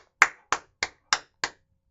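A single person claps five times in a steady, evenly spaced rhythm, sharp and close, with silence between and after the claps.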